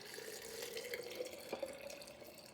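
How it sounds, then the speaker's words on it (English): Cold filtered water runs into a jar of cranberries in a steady, soft trickling stream with faint splashes, close by and quiet, with no voices. "And then we're going to fill it up with cold filtered water."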